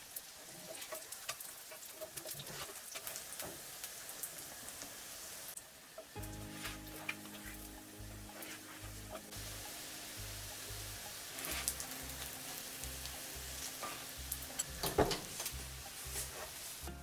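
Scallion and cheese puff pastry pancakes frying in a pan, a steady soft sizzle continuing throughout, with gentle background music joining partway through.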